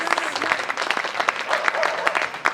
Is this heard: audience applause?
yes